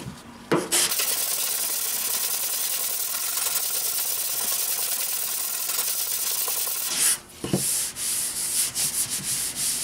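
Filler sanded by hand on an AE86 car body panel: a continuous, loud abrasive rasp of steady back-and-forth rubbing that pauses briefly near the end and is followed by a few short scrapes, with no talk.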